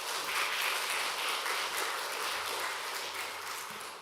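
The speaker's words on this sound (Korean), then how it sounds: "환영의 박수 올려주십시오." A church congregation at a pastor's installation service in Houston claps in welcome, a soft, steady patter of applause heard from some distance for a few seconds.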